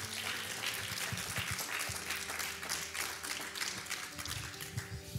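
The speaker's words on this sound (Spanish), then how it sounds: "Denle un aplauso al Señor mientras toma agua." A church congregation applauds with sustained, fairly distant clapping that fills the hall evenly, without voices standing out.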